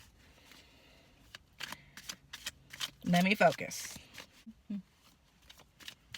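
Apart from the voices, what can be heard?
shuffling playing cards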